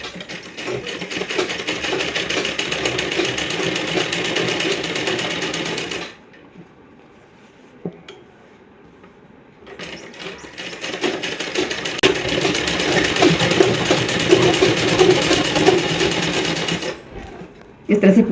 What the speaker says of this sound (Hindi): ये हमने सीधी तरफ से कोने पर एकदम सिलाई लगा दी।